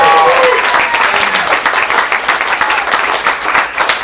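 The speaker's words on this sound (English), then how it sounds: "Give them a round of applause." An audience at a stand-up comedy showcase gives student comedians loud, dense applause, a continuous wash of many hands clapping close by for several seconds.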